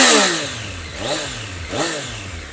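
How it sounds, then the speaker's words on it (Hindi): A Triumph Street Triple R three-cylinder engine revs through its exhaust, first settling from a high note, then blipping sharply twice in quick succession, loud and close with no talking. "नेक्स्ट लेवल इसका एग्जॉस्ट थंप है।"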